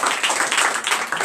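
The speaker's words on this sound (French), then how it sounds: "Donnez encore de vives acclamations" Dense clapping and acclamation from a church congregation during a night deliverance service, a loud, close, continuous burst of many hands with no clear voices.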